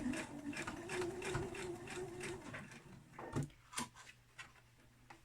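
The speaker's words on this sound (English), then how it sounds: "I'm going to drop down the foot and start to stitch" A home sewing machine stitches fabric for a hairband, running in a steady fast rhythmic whir for about three seconds, then stopping to a few separate mechanical clicks and knocks, close and fairly quiet.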